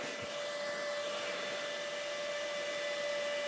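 Electric motor spinning with no load on a VFD inverter, its 18-inch saw blade arbor still bare, giving a steady, even whine with a strong pure tone and airy hiss that holds unchanged throughout.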